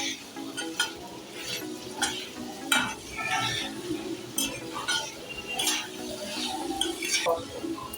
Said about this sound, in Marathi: एक दोन चार मिनटं सतत असं परतवत राहायचं की जेणेकरून ना खाली लागायला नको